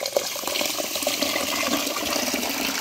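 Water is poured from a vessel onto rice set to soak for biryani, a close, steady splashing gush that lasts the whole short moment with no talking.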